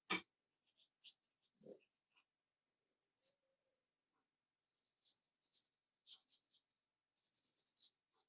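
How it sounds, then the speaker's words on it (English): A paintbrush scumbling and rubbing across paper, with short scattered dry scratchy strokes that are quiet and close, plus a faint breath. "Just basically rubbing the brush into the paper."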